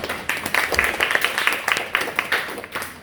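Church audience clapping in a round of applause at a talk, a close, fairly loud patter of many hands with distinct individual claps, steady throughout.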